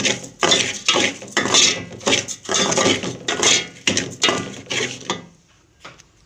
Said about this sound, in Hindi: ये हमने इसमें दलिया डाला। हम इसको भूनेंगे, इसको अच्छी तरह रोस्ट करना है।